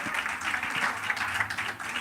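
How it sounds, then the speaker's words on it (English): Live audience at a leadership summit gives a warm round of applause, a dense, continuous crowd clapping that stays loud and even throughout with no speech over it. "So let's give her a wonderful, wonderful round of applause."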